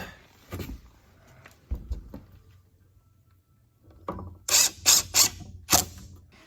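A wooden rustic firewood rack is screwed down, with scattered handling knocks followed by a cluster of sharp, loud ratcheting clicks from driving the screws, close and with no talk.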